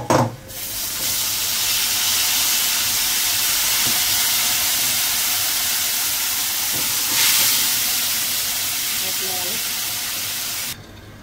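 A steady loud sizzle and hiss of taro leaves dropped into hot oil tempering, carrying on without a break with a few faint clinks beneath it.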